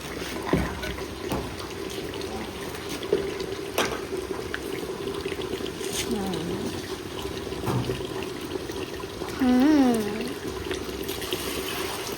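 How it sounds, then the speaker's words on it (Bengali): Water pouring into chicken curry in a clay pot over a village cooking fire, a steady trickling wash with faint background sounds and no talk. "এবার জল দিয়া মাংসটা রেখে দেবো"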